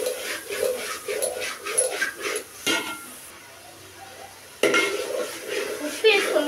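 Spoon stirring salted food in a cooking pot, repeated scraping and clinking strokes in a steady rhythm, close by, pausing briefly midway before resuming.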